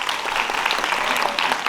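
Audience at an education lecture clapping in a steady, dense wash of applause, loud and continuous for a short stretch without speech.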